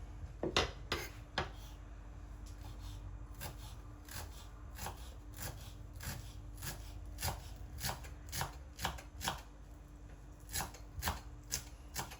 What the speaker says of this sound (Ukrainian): маленький пучок кропу свіжого і також його нарізаю дрібненько